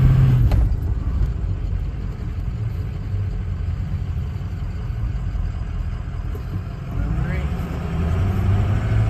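A 2004 Ford F250 pickup truck engine rumbles at idle, a low steady churn that stays fairly constant with slight swells, heard up close.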